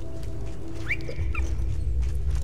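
The dog companion in the World War I game Valiant Hearts, heard in underground tunnels: a short pair of high whining yelps, moderately close, over a low steady rumble of background noise.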